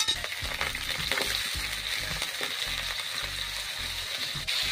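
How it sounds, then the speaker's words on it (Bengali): Cut potatoes frying in hot oil in a wok, a continuous bubbling sizzle with scattered clicks and rattling spatula movements, close and fairly loud throughout. "তবে খালি আলুটা ভেজে নেওয়ার পালা"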